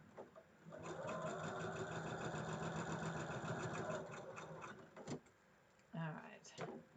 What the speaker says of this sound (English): Now I can just stitch in the seam allowance up here.